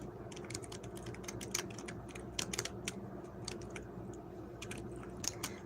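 Steady, rapid clicking of a computer keyboard, close and moderately loud, continuing throughout with uneven rhythm over faint background noise.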